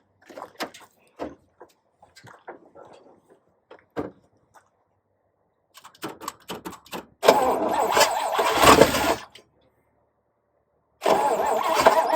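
A car door or latch clicks a few times, then an Oldsmobile Super 88 engine cranks twice in long grinding bursts without catching, with a pause between attempts.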